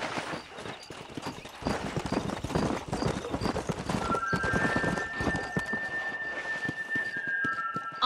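A horse gallops in the Red Dead Redemption western game, its hooves clip-clopping in a quick, steady beat up close, with a brief whinny-like tone and faint background music over the second half.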